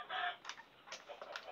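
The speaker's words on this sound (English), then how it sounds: "Go away, chicken!" A Minecraft chicken clucking, a few short close clucks and squawks in quick succession, fairly quiet and alone.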